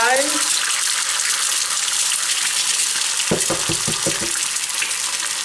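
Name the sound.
eggs frying in a pan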